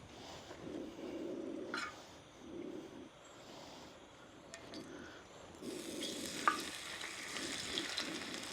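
Chips frying in a pan with Old Bay seasoning: a steady, moderately faint sizzle and crackle that continues throughout, with occasional stirring clinks and scrapes and no talking.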